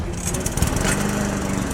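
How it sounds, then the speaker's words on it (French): A lawn mower engine drones close by, a rough, continuous motor hum with a brief louder sputter. "Ça, c'est une tondeuse"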